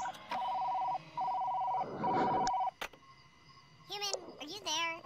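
An electronic telephone ringing in a VR video game, a steady beeping trill in two bursts, loud and close, followed by a noisy clatter and then voices speaking.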